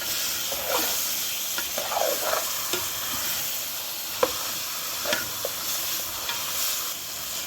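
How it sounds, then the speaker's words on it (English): Culls sizzle and fry in a pan of masala with ginger and garlic, a steady close hiss broken by occasional sharp clicks and scrapes of stirring, with no voices. "I'll let my culls fry, guys,"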